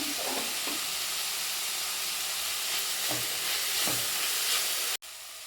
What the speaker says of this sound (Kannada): ಹಾಗೆ ಇವಾಗ ಈರುಳ್ಳಿ ಟೊಮೆಟೊ ಸ್ವಲ್ಪ ಫ್ರೈ ಆಗಬೇಕು.